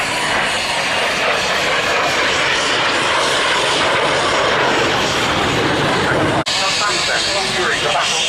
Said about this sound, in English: Now the 2 aircraft coming in for an operational run this time.